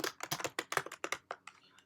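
Typing on a computer keyboard: a quick, close run of about a dozen sharp keystrokes in an uneven rhythm, with no voices.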